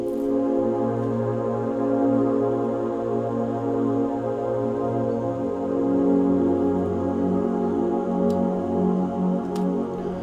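A dark, sustained synth pad for an existential cyberpunk lofi hip-hop track holds thick, layered chords for ten seconds, with a low droning bass line shifting beneath and no voice.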